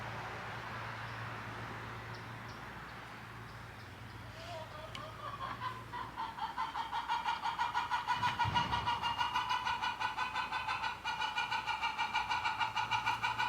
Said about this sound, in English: Looks like the chickens have a thing or two to say this morning.